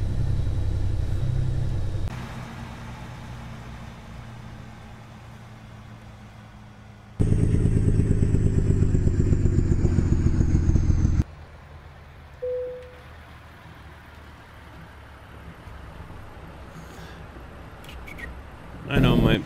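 A truck engine in American Truck Simulator, pulling double flatbed trailers, rumbles in shifting bursts as it manoeuvres into a parking spot, with a louder stretch of revving midway and someone talking over it.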